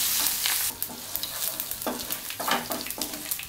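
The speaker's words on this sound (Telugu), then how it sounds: "చూసారు కదా, పోపు చిటపటలాడుతోంది." A tempering of mustard seeds, cumin, asafoetida, dried chillies and curry leaves crackles in hot oil for a vegetable pulusu, giving a close, lively sizzle with repeated sharp pops and splutters. No talking.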